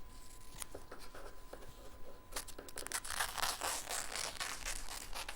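Small ambidextrous dressmaking scissors snip through fabric, a run of sharp crisp cuts that thicken into a rapid, rustling flurry of snipping and tearing-like crunch near the end, close and moderately loud.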